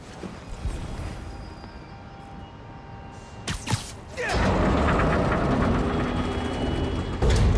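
A train in the video game Spider-Man: Miles Morales gives off a heavy mechanical rumble with clanking and a couple of sharp metallic bangs. The noise swells into a louder, steady grinding roar partway through, with no speech.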